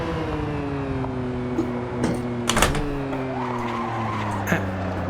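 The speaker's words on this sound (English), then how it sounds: "Tyre lock-up" A Ferrari 512 Testarossa in Assetto Corsa, lapping the Nordschleife, wails with a steady engine drone while its tyres squeal and lock up, sharp screeching bursts rising over the motor as the car understeers through a bumpy section.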